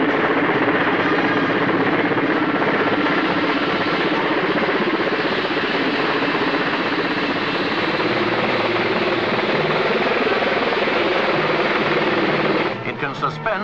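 A Mil Mi-10 heavy-lift helicopter flying, a loud, steady roar of rotor and engine noise that holds nearly unchanged for the whole clip before dipping slightly at the very end.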